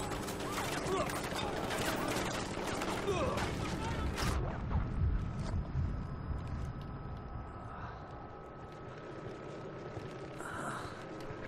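Gunfire in the video game Ghost Recon Wildlands: dense rapid bursts of shots fill the first four seconds, then thinner scattered firing continues under a steady game ambience, with a player talking over it.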